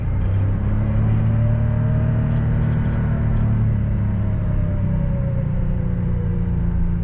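A John Deere Gator utility vehicle in low range four-wheel drive pulls a wagon on an Ohio farm, its engine a steady low droning rumble with a faint whine, close and continuous, with no talk.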